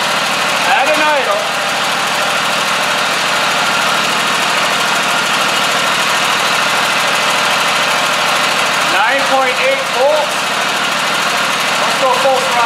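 A Scag Tiger Cat mower engine idles steadily and loud throughout, with a jumper wire running from the starter leads to the pulse regulator, and brief higher-pitched sweeps near the start and end.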